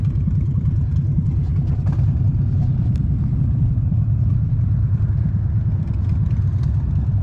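A crowd of motorcycles, including Harley-Davidsons, idling at the end of the Santa Claus Toy Run at Cache Creek, a loud continuous low rumble of engines with occasional revs.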